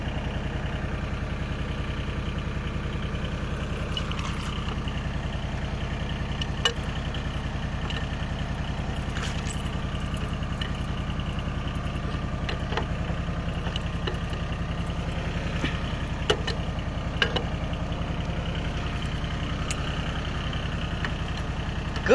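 A Yanmar 2500 single-axle tractor pulling a four-disc plow in Ninh Binh runs with a steady, close diesel drone that holds evenly throughout, with a few faint clanks and no talking.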